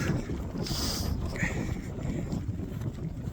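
Wind rushes steadily against the microphone in a continuous blustery roar, with faint watery sloshing underneath, during wet weather on Pendle Hill.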